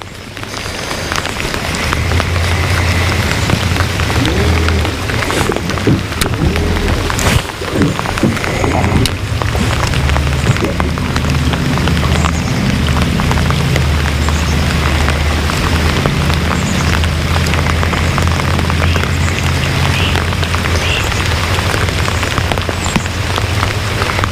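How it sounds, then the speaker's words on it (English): Steady rain pattering on surfaces, continuous and fairly loud, with a low rumbling hum underneath and scattered closer drop sounds throughout. "This is a pretty nice fishing rain."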